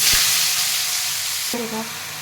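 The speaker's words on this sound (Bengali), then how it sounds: "চলো দিয়ে দিচ্ছি আলু বরবটি।" Potatoes and yardlong beans hit hot oil in a kadai, a loud continuous sizzle with a brief clatter as they go in and a short voice partway through.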